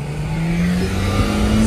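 A Hyundai Creta and a Mahindra Scorpio-N accelerate hard in a rolling-start drag race from about 20 km/h in first gear, their engines a loud, continuous drone whose pitch climbs steadily as they pull away.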